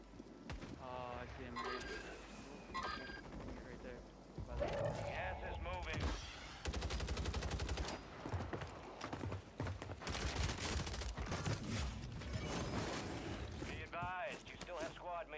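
Gunfire from a long-range sniper rifle in a video game, sharp repeated shots and bursts in a busy battle mix, with a player talking over much of it.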